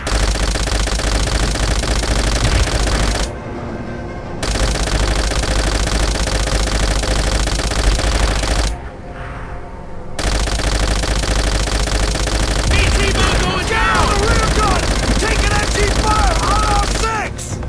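In Call of Duty: World at War, loud sustained machine-gun fire rattles in long bursts broken by brief pauses, with someone talking over the shooting.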